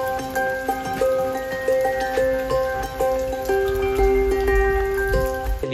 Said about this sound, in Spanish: cada vez está lloviendo más